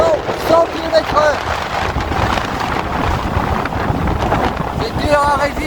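Strong wind of about 100 km/h roaring over a sailboat at sea, loud buffeting gusts blasting the microphone, with rigging whistling near the start and end and a voice speaking over it.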